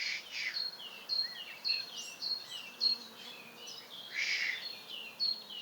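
Several birds chirp and call in short bursts in a wild garden by Lake Constance, fairly faint over a soft outdoor background hiss.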